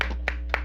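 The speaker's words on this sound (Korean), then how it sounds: "우와, 박수." Short burst of clapping in a church catechism class for children, two or three quick, close claps with a steady hum underneath.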